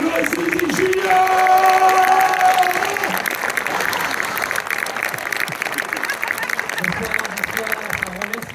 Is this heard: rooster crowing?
no